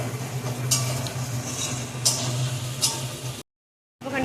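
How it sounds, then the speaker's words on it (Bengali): Onions stirred and frying in a pot, a steady sizzle broken by a few sharp scrapes and clinks of a utensil against the metal, close and fairly loud with a brief dropout near the end. "ধীরে ধীরে পেঁয়াজটাকে নেড়ে নিতে হবে মাঝে মধ্যে।"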